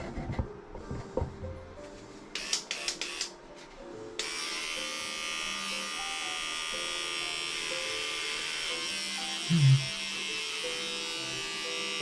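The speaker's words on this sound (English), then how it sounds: "I'm gonna start with just trimming the hair as low as possible" Electric trimmer cutting hair on a head: after a few clicks and handling sounds, a steady high-pitched buzzing motor starts and runs continuously up close, with faint low thumps as it moves across the scalp.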